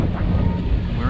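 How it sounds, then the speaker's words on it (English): Wind blows hard across a microphone at a boat anchorage near the Atlantis resort in the Bahamas, a loud, steady low rumble and buffeting with someone talking over it. "It's a little bit windy today, as you can probably tell from the background noise"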